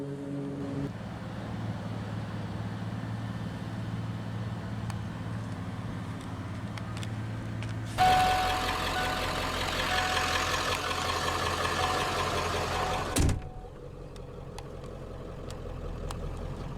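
A 1995 Ford F-250 XLT's 460 cubic inch (7.5 liter) big block gas V8 idles with a low, steady rumble, swelling louder for several seconds in the middle before settling back to a deep idle.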